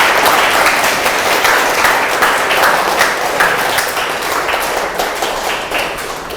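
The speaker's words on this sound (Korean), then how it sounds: "오늘 고생해 주신 우리 교수님께 다시 한번 큰 박수 부탁드립니다." An audience at a Friday science talk on computer-based physics experiments and quantum materials gives the professor a big round of applause, loud sustained clapping from many hands with a few crisp individual claps standing out.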